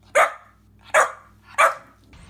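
A puppy barks three times in short, evenly spaced yaps, close to the microphone and loud, with nothing else sounding between them.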